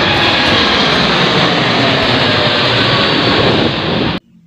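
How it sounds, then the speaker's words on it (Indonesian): A Garuda Indonesia toy airplane gives off a loud, steady jet-like roar that runs unbroken for about four seconds and then cuts off abruptly, leaving near silence. "ini pesawat terbang ya teman"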